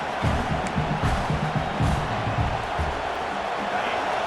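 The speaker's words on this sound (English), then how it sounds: "Listen to this crowd just shaking the girders of this place trying to help their defense." A big video game stadium crowd from a college football game roars in a loud, continuous din, with low rumbling surges rising and falling throughout.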